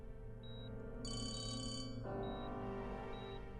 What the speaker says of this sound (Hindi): डब्बू के फोन पे डिलन का कॉल आ रहा है।